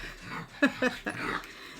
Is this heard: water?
no